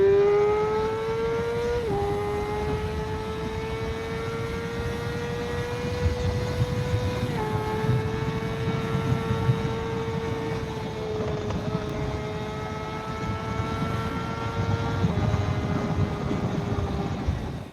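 A Yamaha R6 600cc sport motorcycle accelerates hard, its engine whine climbing steadily in pitch, dropping briefly at each gear change, then rising again, loud and continuous over wind noise.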